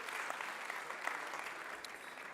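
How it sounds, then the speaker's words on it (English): A morning audience claps as guest AJ Patton takes his seat during a Race & Justice Week talk: a warm, steady round of applause, fairly faint and distant. "Can you give him a round of applause as he takes his seat?"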